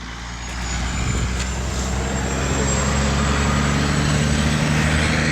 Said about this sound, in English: A lot of trucks